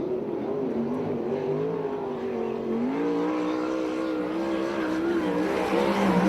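Sprint car engine howling around a dirt track during a USAC/CRA sprint car race in California, a sustained rising and falling drone from a distance with crowd-level background noise throughout.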